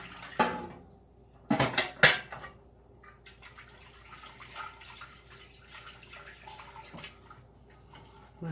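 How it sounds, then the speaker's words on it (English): A pan rinsed in a kitchen sink after canning tomatoes, with a few sharp metallic clanks and knocks near the start, followed by softer water splashing, dripping and light clatter. "Rinse out my pan."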